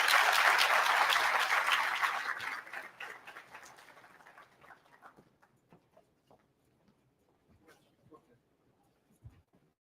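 An audience at a special university lecture on Kashmir breaks into loud applause to welcome the speaker, the clapping dense at first and then thinning out to scattered, fading claps.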